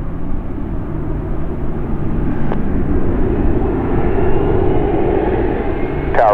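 A jet airliner takes off at Chicago O'Hare airport, its engines making a loud, steady broadband roar that holds for the whole stretch.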